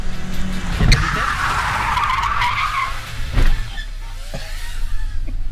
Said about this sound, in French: si je relâche le frein à main, je dois pouvoir avoir plus de glisse